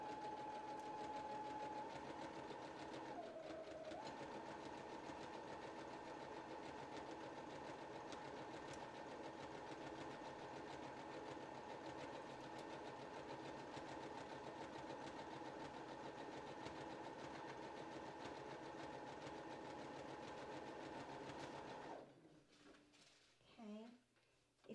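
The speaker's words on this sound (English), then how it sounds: "I'm stitching on my pocket, being careful not to stitch through the dress" Close and steady, a sewing machine stitches a pocket onto a dress with a long continuous whir that dips briefly in pitch early on, then stops with a few faint handling sounds at the end.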